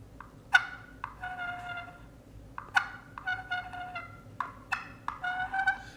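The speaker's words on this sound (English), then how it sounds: "she'll do a cluck and a purr" A turkey hen gives short, repeated clucks with soft purring between them, close by in a quiet outdoor setting.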